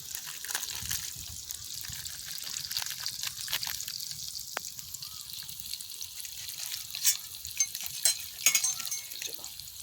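Pointed gourd frying in oil with turmeric and salt is stirred in a pan, giving a steady, quiet hiss of sizzling with scattered scraping clicks that grow a little louder toward the end.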